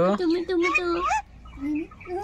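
A pet parakeet in a cage gives a few loud, harsh squawking calls close by, a burst of rapid screeches followed by two shorter honking cries.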